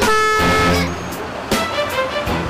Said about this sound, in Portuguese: Barulho de carro, ônibus, caminhão, som, conversa e obra.